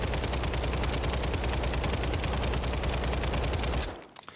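Sustained automatic fire from a WSP9 submachine gun in Call of Duty: Warzone on Rebirth Island, a loud, rapid, continuous burst of shots that cuts off abruptly near the end.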